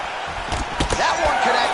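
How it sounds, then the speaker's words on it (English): A heavy uppercut lands in the UFC 5 fighting game with a sharp slap-like impact, followed by a second thud amid crowd noise and commentary. "He turned his entire body into that uppercut, and it landed exactly as he was hoping"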